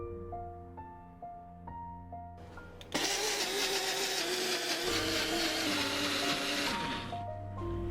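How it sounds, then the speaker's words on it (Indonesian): An electric blender purees grated sweet corn for corn fritters. Quiet kitchen music plays first, then the motor starts with a sudden loud, steady whir that keeps running for several seconds before winding down. "setengahnya kita haluskan menggunakan blender"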